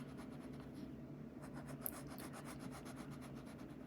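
A pencil scratches and rubs steadily across paper while drawing parts for a paper V4 engine, a close, quiet rasp with rhythmic strokes and no talk.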